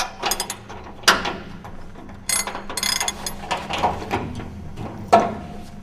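Ratchet wrench loosening the shaft block bolts on a 200mm segmented rotor cassette. Close-up bursts of quick metallic clicking come in short, irregular spurts separated by brief pauses.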